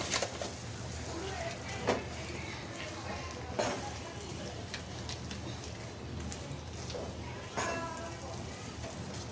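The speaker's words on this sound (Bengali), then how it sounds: "এটাকে একটু ভুনা করতে হবে ভাজতে হবে এভাবে ভাজি" Crumbled bakarkhani halwa fries in a pan with a steady, soft sizzle, broken by occasional sharper clicks as it is stirred and turned.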